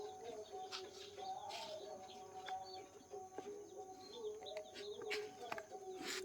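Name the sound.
White Pekin ducks at a fish-and-duck farming unit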